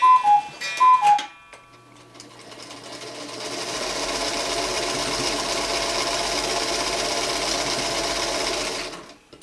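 A sewing machine stitches quilt strips with a Log Cabin ruler, whirring in a long steady run after a few short, sharp taps and clicks at the start.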